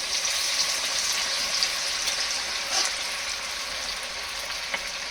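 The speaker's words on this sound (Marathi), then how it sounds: "तेल तापले चांगलं आणि आपण आता चिकन सोडतोय" Hot oil hisses and crackles loudly as chicken fries, a dense, bright sizzle with a few sharper pops.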